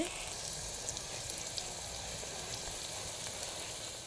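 Chopped onions frying in a pan for an ivy gourd and egg curry, a steady soft sizzle with faint crackles running evenly throughout, fairly quiet and with no talking.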